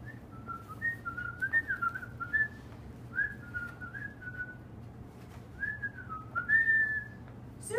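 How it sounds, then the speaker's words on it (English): A person whistles a wavering, tuneful melody in short phrases, close and clear over a faint low hum. "I hear a zookeeper whistling in my ear."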